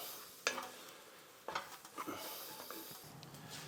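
Flour cooking in a pan for gravy is stirred with a utensil, giving scraping strokes and clinks over a soft sizzle that swells as the mixture is moved around, close by.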